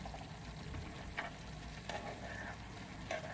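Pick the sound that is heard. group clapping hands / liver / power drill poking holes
liver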